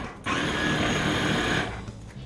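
A KitchenAid food processor pulses onions in one short burst of whirring, about a second and a half long, close by, with a faint hum before and after.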